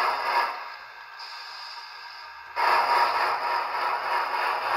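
Steam locomotive chuffing from a SoundTraxx Tsunami 2 Big Steam TSU-2200 sound decoder in an Athearn Big Boy model: a loud, steady hissing chuff that starts abruptly after a quieter hiss, with no talking.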